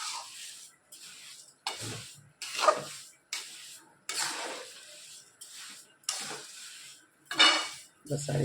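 A spoon stirs sugar into a vegetable dish in a metal pot, giving repeated scraping strokes and clinks in a steady rhythm over a faint sizzle, with no voices.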